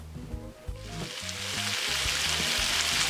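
Peas, potatoes and onion sizzle steadily in olive oil in a pan, the frying hiss swelling louder and denser after a soft start, with a few clinks of stirring near the beginning.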